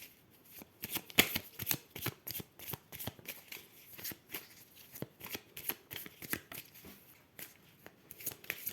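Tarot cards are shuffled and cut close by in quick, rhythmic bursts of crisp riffling and slapping, with short pauses between runs and no talking over them.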